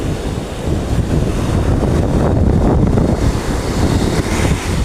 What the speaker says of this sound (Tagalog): Malakas ang alon ng dagat.